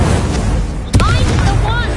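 The Incendio fire spell in a wizard video game goes off with a sudden booming blast in the middle, over a dense rumbling game soundscape with a voice talking.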